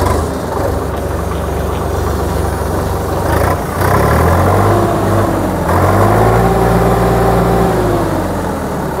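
A 58 HP tractor's diesel engine runs steadily up close, its low rumble rising in pitch as it revs toward 2200 RPM, with no talking.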